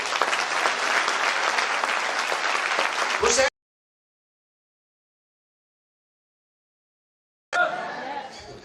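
An audience at an AWPL associates meeting in India breaks into dense, loud clapping for several seconds. The sound cuts to near silence, then the applause resumes briefly near the end.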